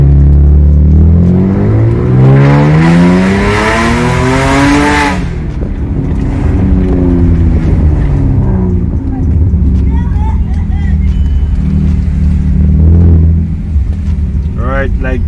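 Inside a Mercedes C300 fitted with an X-pipe exhaust, the engine revs and rises loudly in pitch, then settles into a steady, heavy drone, with a brief second rev near the end.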